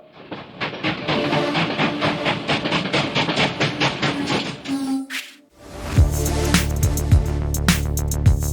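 Train sound effect opening a podcast intro: a rapid rhythmic clickety-clack of wheels on rails, a short hiss and pause, then loud sustained train whistle blasts with rising and falling pitch.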